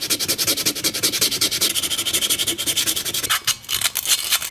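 Rust spots are rubbed off a bearded axe head with rapid back-and-forth scrubbing, a close, steady rasping rhythm that eases briefly near the end before resuming.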